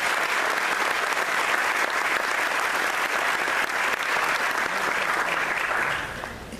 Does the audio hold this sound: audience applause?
yes